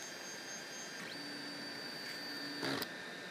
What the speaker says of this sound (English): Got a cooling fan in the foam here,